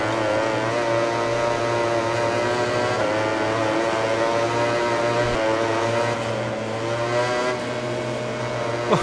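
Ducati GP20 race bike engine in the MotoGP 20 game, a steady high-pitched drone holding near constant revs for several seconds, then dipping slightly as the bike backs off.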